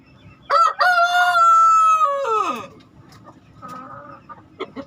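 A rooster crows once, loud and close, in a long drawn-out call that falls away at the end, followed by softer clucking from nearby chickens.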